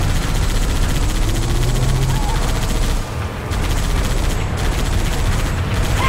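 Steady gunfire in Halo 3 aimed at a Mongoose vehicle, dense and continuous over a roaring mix of engine and battle noise with a brief dip midway.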